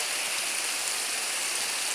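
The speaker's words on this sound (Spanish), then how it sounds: "río, riachuelo" Hissing, even wash of a river stream near a hidden waterfall on a hiking trail in Boquete, Chiriquí, Panama, constant and close with no voices.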